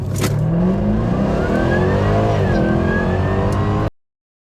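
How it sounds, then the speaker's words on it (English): A Jaguar F-Type SVR fitted with cold air intakes accelerates hard past on the road, its loud supercharged engine rising in pitch with a whine, then the sound cuts off abruptly. "hopefully you'll get some nice sound from the actual supercharger as we go past the camera"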